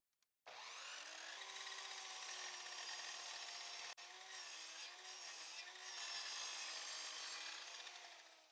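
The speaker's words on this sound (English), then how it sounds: "I'm going to make a 20-degree cut on this piece that measures 23 centimeters." Power saw making a 20-degree angled cut through a 23-centimeter piece of wood clamped in place, a loud continuous whine that holds steady for about eight seconds, dipping briefly midway and then fading at the end of the cut.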